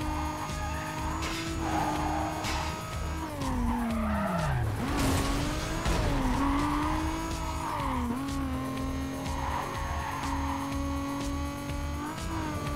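A Toyota Supra in the video game Need for Speed Carbon drives with a steady engine drone, its tires squealing through a long skid that rises and falls in pitch, continuous and loud.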